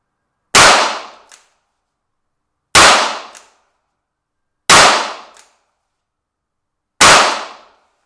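A Rossi Circuit Judge .22LR/WMR revolver carbine fires single action, giving four sharp, loud cracks about two seconds apart, each decaying quickly with no voices.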